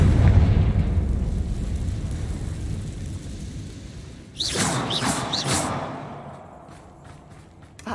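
A Confringo fire spell in Hogwarts Legacy blasts midway as a sharp, loud explosive burst with crackling, whooshing tails, heard after a steady low rumble of game ambience.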